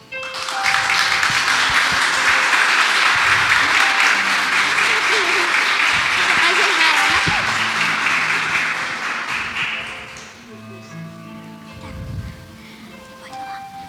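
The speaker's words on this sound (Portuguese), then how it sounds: "Você pode aplaudir?" A church congregation breaks into dense, sustained applause for about ten seconds, then it fades to scattered claps with murmuring voices and a brief spoken word near the end.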